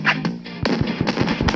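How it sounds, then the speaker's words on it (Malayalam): Firecrackers bursting in a quick string of sharp pops and cracks, fairly close and loud, with a brief higher whistle near the start. "പടക്കം പൊട്ടുന്നുണ്ടോ?"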